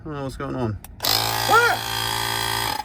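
After a few spoken words, a portable tire air compressor abruptly starts up with a loud, buzzing mechanical whir that runs steadily; a startled voice cries out over it.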